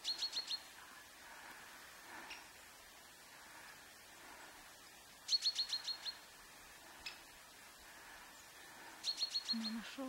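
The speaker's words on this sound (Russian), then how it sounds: "Короче, дятел." Out in a quiet winter forest on a mountain hike, a woodpecker gives three faint bursts of rapid, repeated high calls, spaced several seconds apart over soft background hiss.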